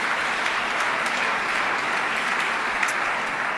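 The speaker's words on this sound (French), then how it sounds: "On peut évidemment applaudir Society pour cette mention" An audience at an award ceremony in Paris applauds steadily, a broad continuous wash of clapping holding at even loudness with no talk over it.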